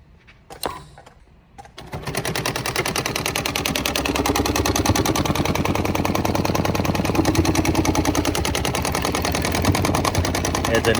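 A Brother BAS-326H programmable CNC sewing machine stitches heavy webbing in a rapid, loud, steady mechanical chatter after a few brief clicks at the start.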